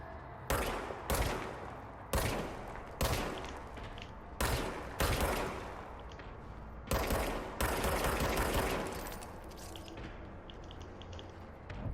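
Service weapon firing in the action video game Control: a series of sharp, loud single gunshots in an uneven rhythm, about a dozen over several seconds, with no talking.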